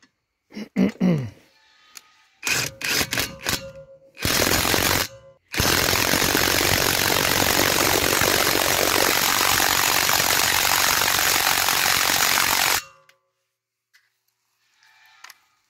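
A Parkside PDSSAP 20 Li A1 cordless impact wrench rattles in short bursts, then hammers continuously for about seven seconds while tightening a screw, loud and close, with no talk.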